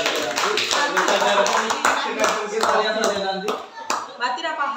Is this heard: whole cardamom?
no